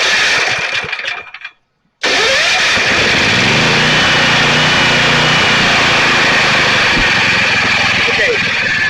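A Generac 7000 portable generator engine idles steadily and loudly up close after a brief dropout near the start, with a continuous low rumble and light mechanical rattle throughout.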